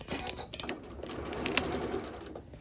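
Sewing machine stitching quilt binding, a steady close mechanical whir with faint rapid ticking throughout, no voices.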